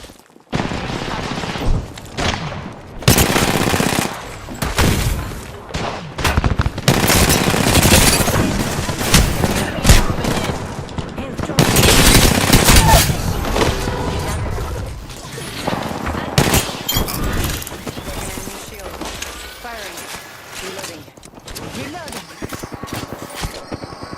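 Dense automatic gunfire in an Apex Legends match, loud rattling bursts and single shots repeating almost continuously with short gaps, mixed with game voice lines and effects.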